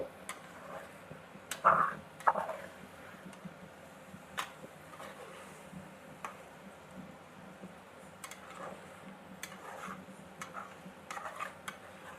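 Masala curry with matta gudiselu mushrooms and cashews being stirred in a pan: soft scraping and intermittent light clinks of a spoon against metal, fairly quiet with faint background hiss, no voices.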